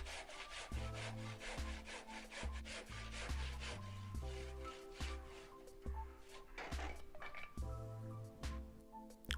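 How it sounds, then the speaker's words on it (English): A handsaw cuts through scrap wood in steady back-and-forth strokes, close and fairly quiet, each stroke giving a rasping scrape with short pauses between runs. "made the cut with a handsaw"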